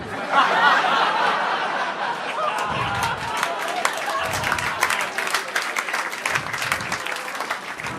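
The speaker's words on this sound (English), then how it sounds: "Thank you for clapping." Audience applause at a stand-up comedy show, a dense burst of clapping that carries on steadily for several seconds with a few scattered laughs mixed in.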